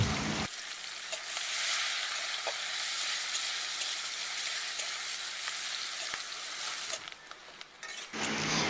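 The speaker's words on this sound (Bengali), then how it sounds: "এবার পেঁয়াজ কুচি দিয়ে পেঁয়াজটাকে খুব ভালোভাবে ভেজে নেব।" Chopped onion frying in oil with black cumin in a kadai, a steady loud sizzle that fills the whole stretch and cuts out abruptly near the end.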